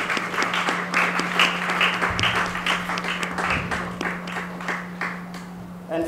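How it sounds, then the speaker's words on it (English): A round of applause for retirees at a retirees association inauguration, steady clapping from a seated audience over a constant low electrical hum, sustained throughout and fading slightly at the end. "I want us to give a round of applause to all retirees here in present."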